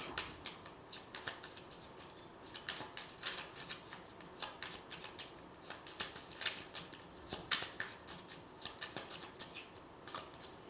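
Tarot cards shuffled and handled at close range during a Hindi tarot reading, giving repeated crisp riffling and slapping bursts across the whole stretch, soft and with no talk.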